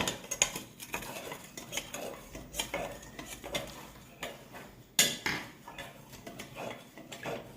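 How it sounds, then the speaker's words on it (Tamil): A spoon stirs jelly powder into hot water in a bowl, giving close, repeated metallic clinks and scrapes in an irregular rhythm, with one sharper clank midway and no talking. "இப்போது அந்த பவுடர்ஸ் கட்டி இல்லாத வரைக்கும் நல்லா கலந்து விடணும்."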